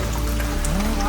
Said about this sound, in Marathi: पहिलाच पाऊस कोकणात